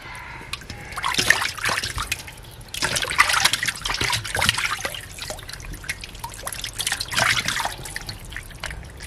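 Catfish are washed by hand in salted water, with close, uneven splashes and trickles coming in bursts and brief pauses throughout and no voices.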